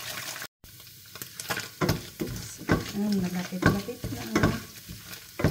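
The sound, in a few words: stirring coconut milk in a pan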